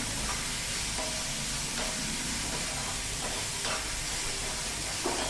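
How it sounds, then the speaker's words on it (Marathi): Onion and curry leaves sizzle steadily in a hot pan while being sautéed, a dense continuous frying hiss with occasional scrapes from the stirring. "कढीपत्ता। कांदा मस्तपैकी परतून घ्यायचा छान।"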